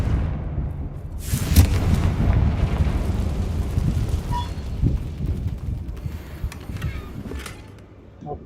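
A fiery Confringo spell blast in Hogwarts Legacy erupts with a deep, rumbling boom that swells and rolls on for several seconds, followed by lingering crackles and a low roar.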